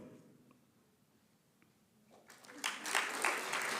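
Graduates at a university hooding ceremony break into applause, starting quiet and swelling into a dense, loud burst of clapping over the final second or so.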